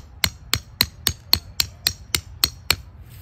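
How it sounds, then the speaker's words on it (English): A hammer drives a tent stake into the ground with nine sharp, evenly spaced strikes about a quarter second apart, close and loud with no talking. "drive it in with your hammer"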